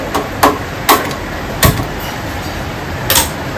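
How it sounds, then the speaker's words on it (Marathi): A home kitchen gas stove is switched on, producing four or five sharp, close clicks at irregular intervals over a quiet background with no talking. "मी आता गॅस चालू करत आहे"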